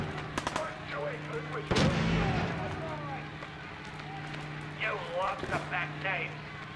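Gunfire in Fallout 4 on survival difficulty: a few sharp shots, one at the start and others spread through the stretch, ringing out under near-constant talking over a low steady game background hum.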